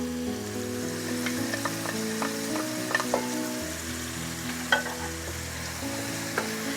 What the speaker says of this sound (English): I'm just going to cook this until the meat is no longer pink and the onions are a little bit softened